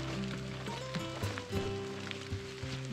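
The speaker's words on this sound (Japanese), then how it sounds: "雨が止む気配はありません。" Steady rain falls on a wetland trail at Oze on a cold early-spring day, a continuous broadband hiss with low sustained tones running beneath it.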